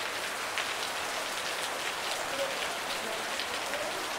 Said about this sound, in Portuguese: E a chuvinha chegou mansa e de repente foi aumentando, aumentando e agora tá assim, ó.